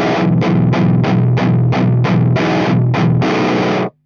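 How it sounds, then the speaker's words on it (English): Distorted electric guitar through an amp with extra bass dialed in, playing a run of chugging chords with short gaps, then longer sustained hits; loud, thick and somewhat loose in the low end, no talking. "the more bass I add, the more loose and less tight the distortion gets"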